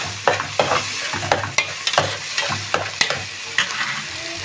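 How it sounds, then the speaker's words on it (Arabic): Shrimp frying alone in a little oil in a pan, a continuous sizzle broken by repeated sharp scraping stirs in an uneven rhythm. "هنا بقى ايه حطيت شويه زيت، هعمل ايه احمر الجمبري بتاعي هنا لوحده"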